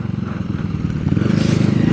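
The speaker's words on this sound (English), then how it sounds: "I just gotta let the car warm up for a minute." A Ford Mustang with a Kenne Bell exhaust idles while warming up, a close, loud, rumbling throb with a fast steady pulse that grows slightly stronger toward the end.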